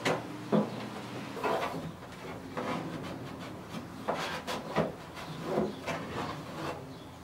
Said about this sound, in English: So, apply it with the soft part of my squeegee. Use the hard part to tuck it in.